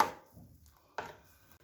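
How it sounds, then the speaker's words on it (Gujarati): Two sharp knife chops strike a cutting board while green chillies are sliced, quiet and close, spaced about a second apart, with no talking. "2 લીલા મરચાં લીધા છે એ સમારીને નાખવા"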